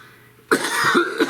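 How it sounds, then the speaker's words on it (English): A sudden, loud cough bursts out after a quiet moment, followed by a rough, ragged tail of throat noise. "there's that cough"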